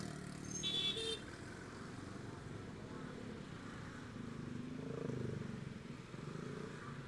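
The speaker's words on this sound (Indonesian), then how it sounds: "Dari Cibaduyut sampai Rancamanyar macet" Heavy stop-and-go traffic on a congested street in Bandung, with a steady wash of motorcycle and car engines, a short horn toot near the start and a louder engine swell around the middle, no talking.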